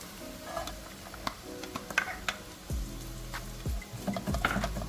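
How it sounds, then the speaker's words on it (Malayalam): Grated coconut fries in a pan over high flame for a Kerala fish curry, with soft intermittent sizzling and scraping stirs, quiet and close, no talk. "ഹൈ ഫ്ലെയിമിലിട്ട് ഗോൾഡൻ കളർ ആകുന്നത് വരെ തേങ്ങ നന്നായിട്ട് വറുത്തെടുക്കാം"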